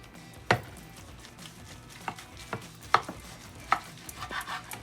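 A knife cuts Jamaican pot roast into thin slices on a board, making a few sparse, quiet taps and thuds at irregular intervals with a faint kitchen background.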